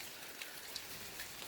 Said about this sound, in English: if the rain slacks up later